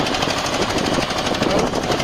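An Eicher 241 tractor's diesel engine chugs under load while hauling a fully loaded trolley, a loud, close, rapid knocking pulse that runs steadily throughout.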